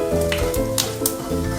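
Fennel and fenugreek seeds frying in a pan for cucumber shukto give a soft, steady sizzle with a few brief sharper bursts, heard over sustained background tones.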